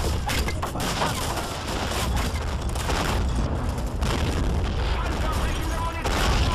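Dense, continuous battle noise from the World War II strategy game Men of War, with gunfire, machine-gun bursts and booming artillery blasts layered throughout, while shouted voices are heard over the din.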